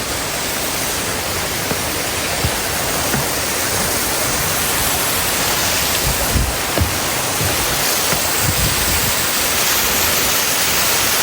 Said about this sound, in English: And you have the roaring creek there, a little creek there.